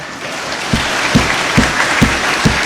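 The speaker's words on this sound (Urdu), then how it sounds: "اس پہ میں بھی تالیاں بجا رہا ہوں" Applause fills the Punjab Assembly hall, a busy crowd of hands clapping with a few sharper, close claps standing out at a fairly steady beat, loud and without speech.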